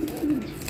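A racing pigeon arriving after a 555 km race gives a single short, close coo over a low background hum.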